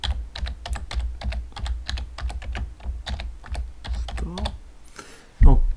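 Rapid typing on a computer keyboard, close and fairly loud, with a steady run of key clicks over about five seconds, a short pause, then a single louder click or knock at the end.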